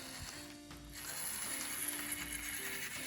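A model steam locomotive runs with a soft, steady mechanical whir of clicking gears, quiet and close, continuing without a break and with no talking.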